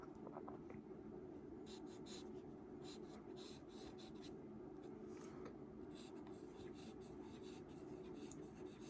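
A Lamy fountain pen with a broad steel nib scratching softly across paper, a quiet continuous scribbling with short strokes and brief pauses, close and faint, with no voices.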